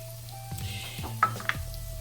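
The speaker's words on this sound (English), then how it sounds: "I turned the fire down because this sausage is really starting to pop" Sausage searing in a hot pan over a lowered flame, a soft steady sizzle broken by a few sharp pops and faint utensil knocks, close and fairly quiet with no talk.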